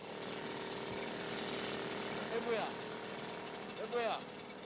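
A motorized disinfectant spray gun's small engine rattles and buzzes continuously at close range in a market while people talk faintly over it, a couple of voices rising briefly above the noise.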